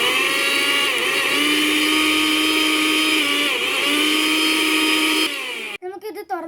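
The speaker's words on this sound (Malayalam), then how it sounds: "അരച്ചെടുക്കാം കേട്ടോ" A mixer grinder whirs steadily as it blends mayonnaise ingredients with vinegar, a loud continuous motor whine with slight pitch dips, stopping near the end before a brief voice is heard.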